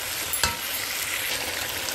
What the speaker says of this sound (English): Let's fry it for about 5 minutes,